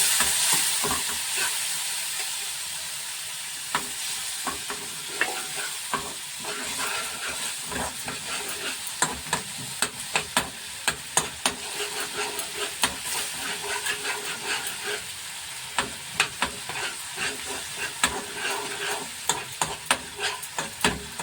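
Spice powders of chilli, coriander, turmeric, cumin and salt stirred in a pan with a splash of water for Nepali momo sauce, giving a steady close sizzle and hiss broken by repeated sharp scraping strokes of the spoon.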